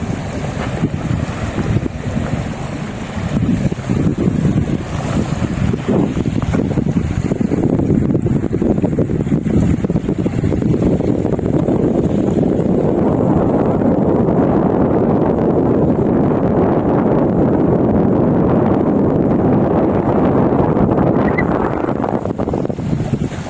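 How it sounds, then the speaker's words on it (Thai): Strong wind roars and buffets the microphone continuously, a loud rumbling gust with surf-like wash of waves underneath and no talking, at Huai Mai Teng reservoir, Chom Bueng, Ratchaburi, Thailand. "ลมแรงมากเลยครับ วันนี้"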